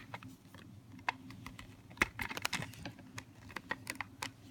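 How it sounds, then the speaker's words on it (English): A plastic credit card slides along the seal channel of an underwater camera housing, giving a run of light, quick scraping clicks and ticks at close range with no talking. "I use a credit card and I slide it inside"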